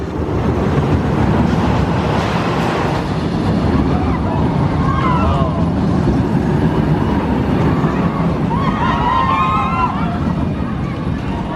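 Boomerang roller coaster train at Six Flags St. Louis, originally from Six Flags over Texas, running a steady loud rumble with wind roar and clattering, while riders' voices and excited screams rise over the ride noise.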